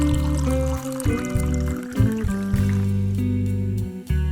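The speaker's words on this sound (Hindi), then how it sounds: "साथ ही पानी शामिल कर देंगे" Water is poured into a pan holding large cut pieces of boiled potato, a steady splashing pour in a home kitchen heard beneath prominent background music.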